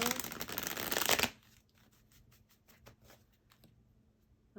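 A deck of tarot cards is shuffled in a loud, dense riffling burst, followed by softer scattered taps and slides of the cards being handled.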